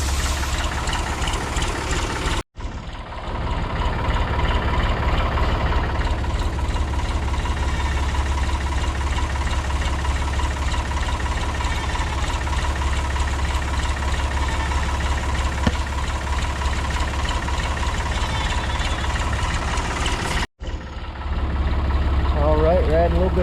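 A backhoe engine idles steadily while mixing potting soil for tomato plants, a low, even rumble that continues throughout, with someone talking over it and two brief cuts.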